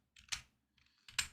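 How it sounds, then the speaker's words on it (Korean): Typing on a computer keyboard during a live broadcast, a few quick clusters of crisp, close key clicks separated by short pauses, quiet and with no talking. "제가 이제 타자를 치게 되면 문제가 타자음이 너무 크게 들어가서"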